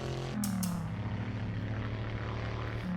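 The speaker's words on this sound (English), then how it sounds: "V8 is a screamer, definitely." Racing car with a high-revving V8 engine in the Assetto Corsa video game, sliding on the Riverside track; a steady tonal engine whine holds and shifts pitch slightly, with a brief sharper burst early on and no talk.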